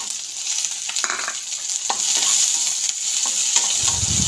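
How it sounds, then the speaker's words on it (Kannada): Onion and green chili fry in a pan with curry leaves, a steady close sizzle broken by a few sharp stirring scrapes, with a low rumble rising near the end; no one speaks. "ಚೆನ್ನಾಗಿ ಫ್ರೈ ಮಾಡುವ."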